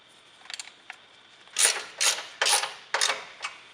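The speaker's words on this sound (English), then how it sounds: "we're gonna reconnect our brake line, 10mm socket, and we're tightening this down to 16 foot-pounds." A 10mm socket ratchet tightens a brake line bolt on a Jeep during a leveling kit install, giving a few faint clicks and then four or five louder bursts of rapid ratcheting, close by and with no talk.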